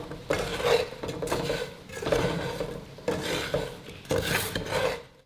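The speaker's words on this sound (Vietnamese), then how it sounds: "Mình tắt bếp và vẫn đảo mứt đều trên chảo cho đến khi mứt nguội hẳn." Candied winter melon stirred in a pan on a switched-off stove, with steady, rhythmic scraping and rasping strokes of a utensil against the pan and the sugar-crusted pieces, close and fairly loud.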